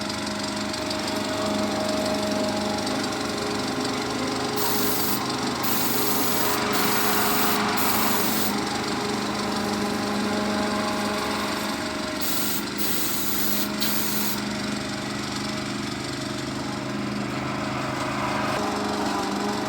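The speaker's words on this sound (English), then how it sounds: "the geezer across the road's got a mower on" A lawn mower runs across the road, a steady engine drone that continues without a break and sits under a constant background hiss.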